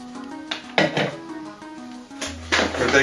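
Hemp seed mix tipped from a bowl into a bucket, heard as a few close clattering, rattling knocks and a hard scrape of container against container, with a low hum running underneath.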